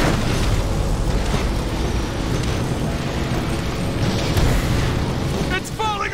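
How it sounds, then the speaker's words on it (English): A ship's failing reactor core explodes in the Transformers War for Cybertron video game, a dense continuous roar and rumble of blasts and bursts filling the whole stretch, loud and unbroken, with a brief mechanical warble near the end. "Lord Megatron, the ship's reactor core is failing. Explosion imminent."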